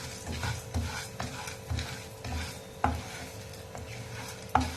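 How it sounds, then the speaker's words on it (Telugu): Ivy gourd (dondakaya) frying in oil, a continuous close sizzle broken by regular scraping and tapping of a spatula against the pan as it is stirred. "ఇది లైట్గా కొంచెం బ్రౌన్ కలర్ వచ్చేదాకా సన్నగా వేపుకుందాం."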